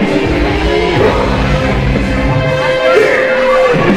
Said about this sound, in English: Mr. Punch Kick Chop receiving the cheers from this sold-out crowd